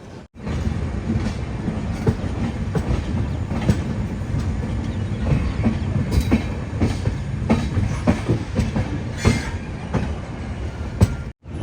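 Coimbatore to Hisar AC Express in 3AC class rolls along with continuous rumbling and rhythmic clickety-clack of wheels over rail joints, occasional sharp squeals and knocks, steady and loud, with no voices.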